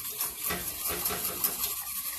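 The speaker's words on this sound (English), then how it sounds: "And you want to whisk it." Agar agar powder is whisked into boiling elderberry liquid in a pot, with a quick, steady metallic whisking and light sloshing, close and moderate, no speech.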